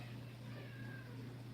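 A kitten, one of a litter outdoors near a fence, gives a faint meow over steady background hum, with a voice speaking softly nearby.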